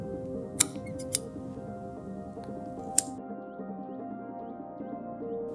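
Scissors snip leather stitching thread on a handmade key pouch: three quiet, crisp clicks in the first few seconds, then a soft, steady room hum.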